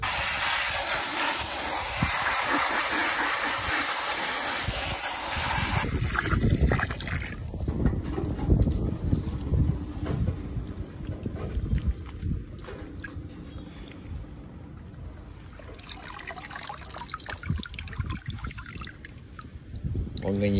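Tap water runs steadily into an orchid pot to rinse out white fungus, a continuous close gushing hiss with splashing that changes tone after a few seconds as the flow hits the pot.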